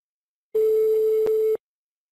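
A single steady telephone line tone lasting about a second, clear and close with no talk over it, as a prank call is being placed.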